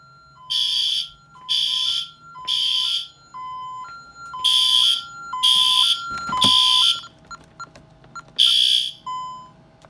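An electronic security alarm system pulses in repeated loud, piercing bursts alternating with a two-tone beep, with a sharp click partway through, then is disarmed.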